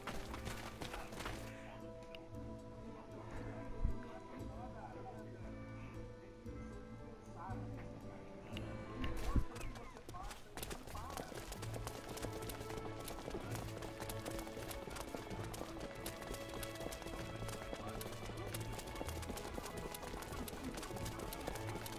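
Horse hooves clip-clopping while riding in the Star Ocean video game, a steady rhythmic trot over layered game music, a louder thud or two early on, with a voice speaking at times.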